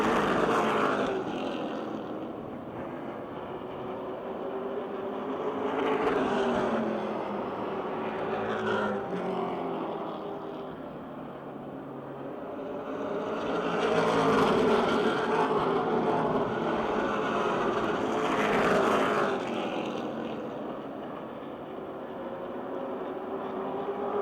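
Race cars roar around the Motordrome Speedway oval, engine noise swelling and fading as packs pass by at a distance, with no voices over the steady drone.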